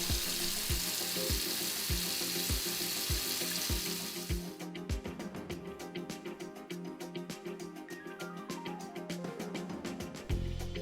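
Fish being rinsed under a running kitchen tap while cooking a fish stew, a steady hiss of flowing water with splashing and light knocking as the fish is handled, then clattering handling sounds.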